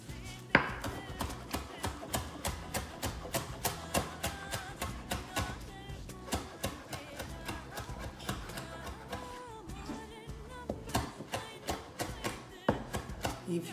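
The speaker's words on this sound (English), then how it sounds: "Going to chop the basil." Fresh basil chopped with a knife on a board in a home kitchen, a long run of quick, evenly spaced knife taps repeating steadily, close and clear with no talking.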